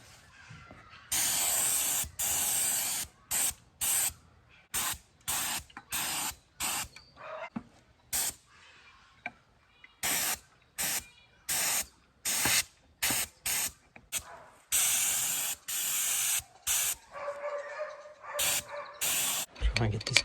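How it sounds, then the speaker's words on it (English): Primer paint sprayed in bursts from a spray gun, a string of sharp close hisses broken by short pauses, over roughly twenty seconds. "I'll give it another coat of primer, I think, just to make sure it really sticks to it"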